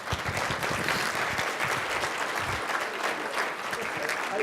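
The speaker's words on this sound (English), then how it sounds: "let's give him a round of applause" Sustained applause from a plenary session audience at a leadership conference, dense and steady throughout with some low voices mixed in the crowd.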